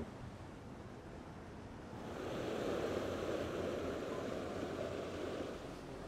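A Princess F65 flybridge motor yacht heads out of the harbour to open sea, with a steady rush of water and wind swelling midway, mid-distance and without talk.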